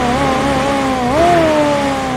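A man imitates a motor scooter engine with his mouth, a steady buzzing drone that rises in pitch midway like revving, then settles, with no real engine running.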